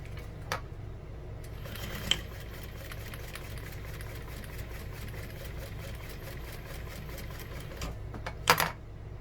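Sewing machine top stitching a seam on a fabric bag, a quiet, steady mechanical whir of rapid needle strokes running continuously, with a few sharper clicks and a brief louder clatter near the end.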